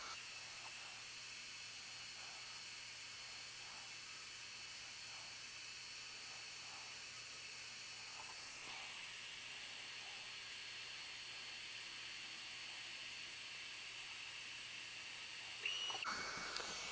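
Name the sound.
Ortur Laser Master 3 laser cutting wood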